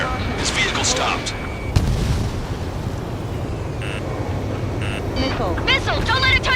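Heavy gunfire and booming blasts hit a vehicle in the combat flight game Ace Combat 7, dense and loud with sharp cracks, under radio voices and alarm tones.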